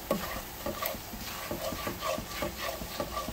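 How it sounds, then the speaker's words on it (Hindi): Flour stirred and roasted in a pan for alfredo sauce, a spoon scraping in a steady rhythmic back-and-forth with a soft sizzle underneath, close and clear with no talking. "मैंने 1 टेबलस्पून इसमें मैदा डाल दिया है, ठीक है। इसको अच्छा सा मैदे में कलर आ जाए अच्छा सा"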